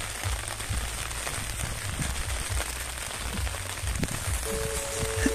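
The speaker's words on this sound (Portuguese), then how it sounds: "debaixo de chuva fazendo esse vídeo pra vocês aqui" Rain falls on a palm plantation as a soft, continuous patter of drops, fairly quiet and steady with low rumbling wind or handling noise underneath.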